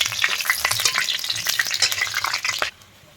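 Cumin seeds and a bay leaf crackle loudly in hot oil in a kadai, a busy spattering sizzle that cuts off abruptly near the end.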